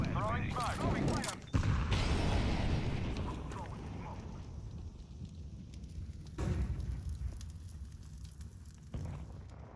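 An incendiary grenade in Counter-Strike 2 bursts into a roaring fiery whoosh that swells and lingers, with a sharp thud near the start and crackling flames continuing beneath voices talking over the game.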